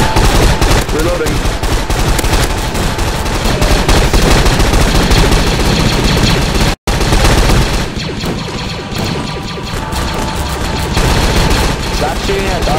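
Dense, sustained gunfire in a Star Wars Clone Wars roleplay game, rapid shots fired at a droid in a loud continuous barrage with a brief break near the middle, voices faintly mixed in.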